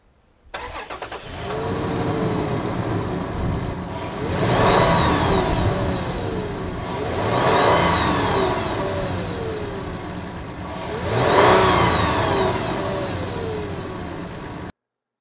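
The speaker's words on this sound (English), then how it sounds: "I'll go ahead and start up the engine so that you can hear what it sounds like at idle and when revving it." A Toyota 4Runner engine cranks and catches, then settles into a steady idle broken by three separate revs that swell and fall back, close and loud with no talking.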